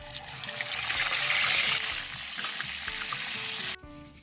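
Coconut milk cooking with jackfruit in a pan for ginataang langka, a steady close sizzle and bubbling that ends abruptly, leaving a faint hum.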